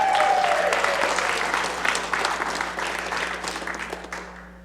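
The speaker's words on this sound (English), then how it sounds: "Can we give her a round of applause for that?" A round of applause from an audience, dense clapping heard close at first that thins and fades out toward the end, with a brief voice underneath at the start.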